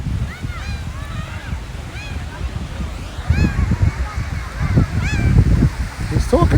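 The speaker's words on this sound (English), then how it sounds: "we have a lot of laughing gulls here today with us" Laughing gulls calling on a Florida beach, repeated short downward-curving cries scattered through the clip over steady surf and someone talking nearby.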